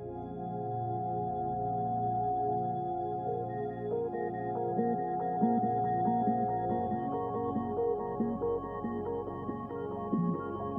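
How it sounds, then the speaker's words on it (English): Music with a degraded, low-quality sound from a change-speed effect, steady harmonic tones with a muffled, wobbly character playing alone for the whole stretch. "And then it should sound really low quality."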